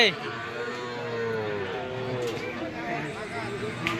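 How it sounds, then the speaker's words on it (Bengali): Calves and cattle lined up at a busy rural cattle market in Buniyadpur, South Dinajpur, lowing and mooing in drawn-out calls beneath continuous crowd chatter and nearby talking. "সবগুলোই আড়িয়া বাছুর সবগুলো লাইন ধরানো আছে"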